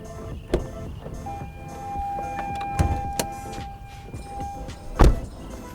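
Hood of a 2023 Toyota Veloz being opened: a few sharp mechanical clunks and latch clicks spread across several seconds, with a faint, thin whine running between them. The last thump is the heaviest, and no one speaks.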